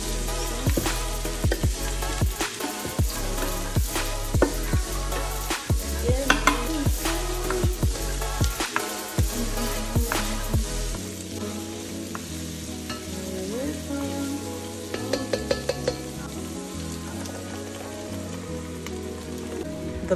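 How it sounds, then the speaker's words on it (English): Onions frying in a pan as the base for sauce gumbo (okra stew), a steady crackling sizzle with stirring scrapes and clatter, loud and close, no talking. "After frying your onions until they're somewhat soft"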